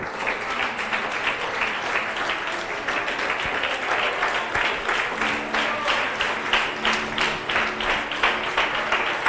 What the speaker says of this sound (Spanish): Todos los que puedan rendirle una alabanza de aplauso al Señor,